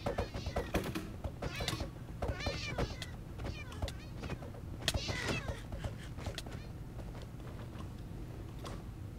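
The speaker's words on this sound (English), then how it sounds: "this makes me sad just listening to all the sad kitty cats" Many cats meowing in the Minecraft server MineZ, overlapping mewing calls scattered across a steady low background rumble, moderately loud and continuous, with faint clicking underneath.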